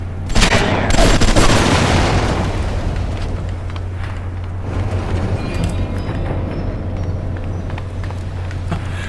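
Explosions and gunfire in BioShock: a loud burst of booming blasts and shots up front, then a rumbling, decaying roar that lingers with a steady low hum.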